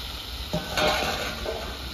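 Cut potatoes drop into a hot pan for a village-style fish curry with eggplant, giving a sudden burst of frying hiss that swells briefly then settles into a quieter sizzle.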